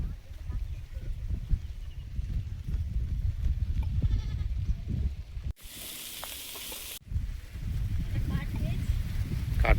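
Goats bleat intermittently near a kitchen, mixed with a constant low rumble and a short burst of sizzling frying.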